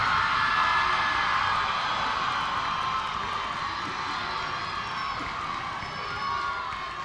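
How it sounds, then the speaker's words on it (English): A crowd at a university basketball game cheers and applauds for the homecoming king, a steady loud roar of clapping and shouting that holds throughout and fades slightly toward the end. "One more big round of applause for the 2023 Homecoming King, Mr. Adrian McClintock."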